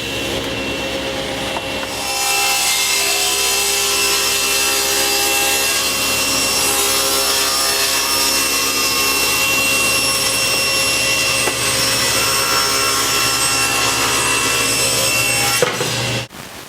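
A SawStop table saw with a dado stack setup rips a wooden board down the middle into trim pieces, the blade whining loud and steady for about fourteen seconds after a short idle spin-up, then winding down at the end.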